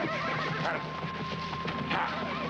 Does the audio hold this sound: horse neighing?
yes